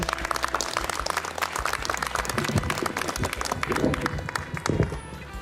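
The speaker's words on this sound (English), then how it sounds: "Please give them a nice round of applause." Ceremony audience in Massachusetts applauding, a continuous crackle of many hands clapping at moderate distance, holding steady for several seconds.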